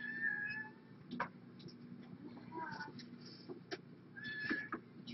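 A cat in an adoption setting meows repeatedly, with drawn-out, tonal cries near the start and again toward the end, fairly close, while faint human voices murmur in the background.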